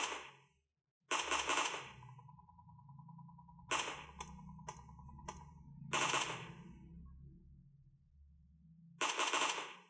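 Gunfire from a mobile shooter game played on an ASUS ROG Phone: several short, loud bursts of rapid shots separated by quieter gaps, with a steady tone and some game sounds between bursts.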